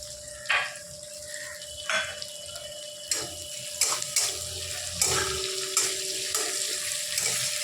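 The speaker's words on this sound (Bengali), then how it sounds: "এবার টমেটো আর পেঁয়াজটা তেলের মধ্যে হালকা করে ভেজে নিতে হবে।" Onion and tomato frying in oil in a pan, stirred: a soft continuous sizzle broken by repeated clinking scrapes of the spoon against the pan at irregular intervals, close and without talk.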